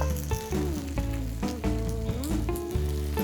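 Bacon and a folded slice of cheese in a breadless egg-style toast sizzle steadily in a pan over medium heat, a close, continuous frying crackle with faint scraping from a spatula pressing it into shape.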